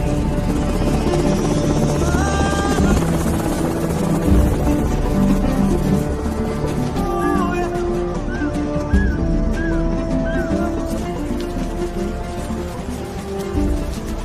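Military helicopter rotor and turbine roar dominate throughout, loud and close, with a steady thudding drone; distant voices and tonal radio-like sounds occur beneath the engine noise.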